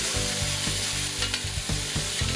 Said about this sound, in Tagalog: Kapag nagisa na natin ang ating bawang at sibuyas, ilalagay na natin ang ating pork liempo strips.